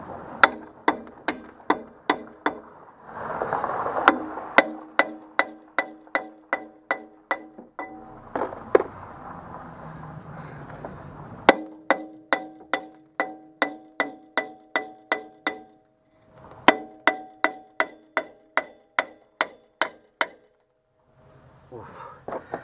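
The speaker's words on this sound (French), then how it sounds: "on va taper un peu tout autour pour le décoller" Repeated sharp metallic taps strike around a stuck rear brake drum on a Citroën C15D, landing in quick regular bursts separated by brief pauses, close and loud in a quiet workshop.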